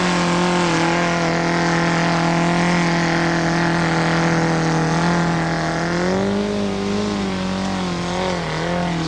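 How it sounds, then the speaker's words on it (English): A Suzuki LJ80 4WD strains at a 1985 national 4WD trial in Dunedin, its engine revving hard and loud and close, holding a high whine before the pitch dips and wavers as it labours. "Certainly making that engine work"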